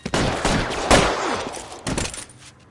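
Gunfire in the video game L.A. Noire during a police shootout: a rapid, loud volley of shots with a heavier blast near the one-second mark and another burst shortly after, then fading.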